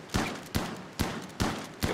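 Gunfire from the colony game Rimworld: five sharp shots spaced roughly every half-second, each a loud broadband crack with a short decaying tail, with no voices over them.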